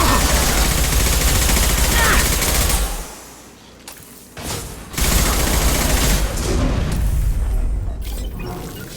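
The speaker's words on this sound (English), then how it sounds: "Shotgun!" Shotgun blasts in Mass Effect 2 combat: loud, dense booming bursts that drop to a brief quieter lull partway through and then resume, with voices speaking over the fighting.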